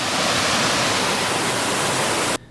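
A loud waterfall roars up close as a dense, steady hiss of falling water, then cuts off abruptly near the end.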